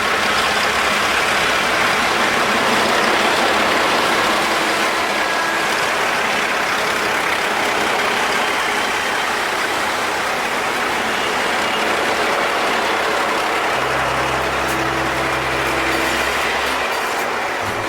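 A South Australian Railways 830 class diesel locomotive, a version of the New South Wales 48 class, shunting in 1965, a loud continuous engine and rolling rumble with a low steady drone joining near the end.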